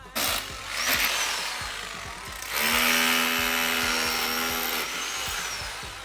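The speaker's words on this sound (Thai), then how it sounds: "เราก็เลยต้องเจาะรูเหมือนอย่างที่เราเห็นนี่แหละครับเนี่ย" A power drill bores drainage holes at a house construction site, whining steadily at close range with a rising pitch partway through, over rhythmic background tapping.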